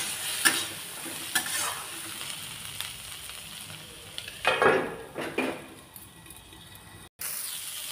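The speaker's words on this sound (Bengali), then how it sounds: "দেখুন পেঁয়াজ আর টমেটোটা ভাজা হয়ে গেছে" Onions and tomatoes frying in a pan for a catla fish curry, a continuous sizzle broken by clinking stirs of a utensil against the pan, close, with a short dropout near the end.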